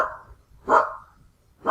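A dog barks twice with a gap between, then starts a third bark, each bark loud and fairly close.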